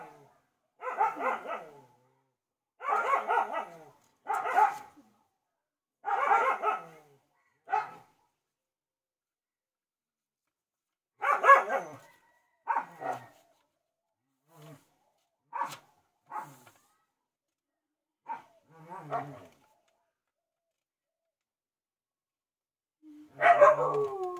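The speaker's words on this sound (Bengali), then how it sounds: "কুকুরগুলো কীভাবে চিল্লাচ্ছে।" Several dogs bark in loud, close bursts, first in quick clusters and then in scattered single barks and yips with quiet gaps between them.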